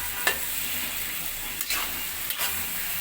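Taro leaves with shrimp fry in a pan with a steady close sizzle, broken by a few sharp scraping stirs of the utensil.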